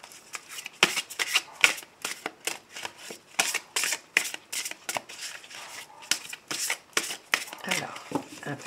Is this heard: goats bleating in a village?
no